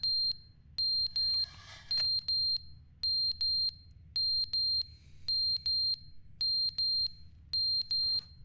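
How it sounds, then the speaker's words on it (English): A fire alarm in the video game The Stanley Parable: Ultra Deluxe beeps over and over, a shrill, piercing electronic tone in steady pairs of short beeps with brief gaps, clear and loud above a low background hum. "the fucking fire alarm batteries run out"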